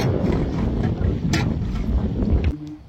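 Strong wind buffets the microphone aboard a river trawler on the Padma, a loud continuous roar and rumble lasting nearly three seconds before dropping off abruptly at the end, with no talking.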